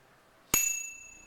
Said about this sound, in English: Ding! What is that? Is that the bell?